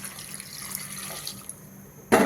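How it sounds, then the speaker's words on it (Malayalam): A glass of water is poured into pork curry cooking in a pan. A low, quiet background gives way to a sudden loud splash and hiss near the end. "എല്ലാതും ഒന്ന് ഇളക്കാൻ മിക്സാക്കിയിട്ട് ഒറ്റ ഗ്ലാസ് വെള്ളം ഒഴിക്കുക."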